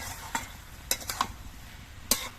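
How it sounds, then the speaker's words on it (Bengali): Sugar being stirred into cooking vegetables in a pan, a low sizzle broken by a few sharp scrapes and knocks of a spoon, four distinct strokes over a couple of seconds, no voices. "চিনি দানাগুলো নেড়ে চেড়ে মিশিয়ে দিতে হবে।"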